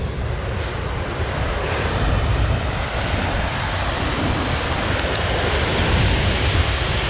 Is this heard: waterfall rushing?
yes